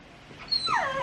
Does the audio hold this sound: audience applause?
no